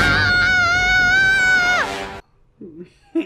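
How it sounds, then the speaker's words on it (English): Loud, sustained high-pitched scream from a character in the TV show Even Stevens, holding steady for about two seconds before breaking downward and cutting off, followed by faint voices. "You didn't buy that scream? That didn't seem genuine?"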